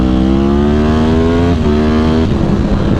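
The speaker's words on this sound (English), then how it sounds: "this got an Akrapovic exhaust with a cat delete, and it is just beastly." A 2012 Yamaha R1 sportbike fitted with an Akrapovic exhaust and catalytic converter delete, its engine howling loud and close with a rising rev that dips briefly and climbs again.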